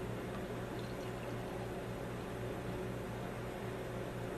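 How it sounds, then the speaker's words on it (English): Homebrewed beer streams steadily into a glass, a soft continuous fizzing pour at low volume, close by and alone without talk. "So let's go ahead and get a pour on this."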